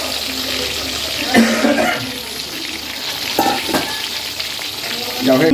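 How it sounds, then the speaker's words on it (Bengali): Potatoes frying in oil at an outdoor picnic, a steady loud sizzle with a few sharper crackles and stirring bursts, heard alone without voices. "আলু ভাজা হচ্ছে"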